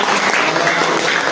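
Classroom applause for a student group, a dense, loud burst of clapping from many hands that stays even throughout.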